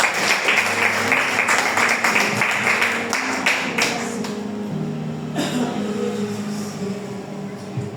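A church congregation applauds together, a dense wash of clapping that stays steady and fairly loud, then slowly thins and fades toward the end.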